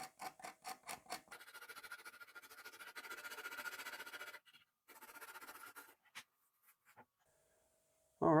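A white-nibbed composite fiberglass cleaning pencil scrubs crusty deposits off a metal-detecting coin find, giving close, dry, scratchy strokes in rhythmic bursts, then brief pauses and a few small handling clicks near the end.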